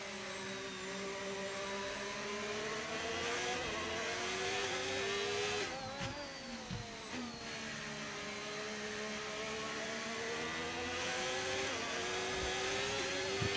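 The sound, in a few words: Mercedes F1 car engine in the video game F1 25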